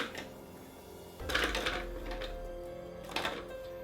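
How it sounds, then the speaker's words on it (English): A food processor loaded with about twenty Oreo cookies starts up partway through, a low motor hum with rattling, clattering chunks being chopped, close and moderately loud, with no talking. "I have a food processor here and I'm going to put about 20 Oreo cookies in there."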